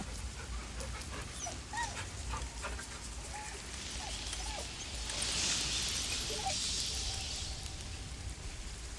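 A dog companion in the video game Baldur's Gate 3 whimpers and yips in short, faint whines scattered over a quiet ambient bed, with a brief hiss of rain-like noise midway.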